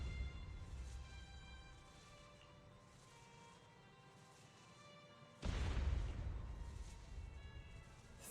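Explosions in the video game Zenless Zone Zero: a faint rumbling backdrop builds before a sudden loud boom hits near the middle, followed by a roaring, crackling blast that slowly decays, with no voices.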